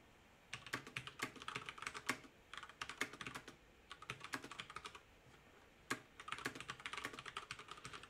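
Someone types code on a computer keyboard in quick bursts of soft, close keystrokes, with short pauses between the runs of clicks in a quiet room.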